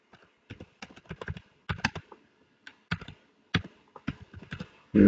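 Typing on a computer keyboard while entering a view name in AutoCAD, a close run of quick, irregular key clicks in short bursts with pauses and no talking.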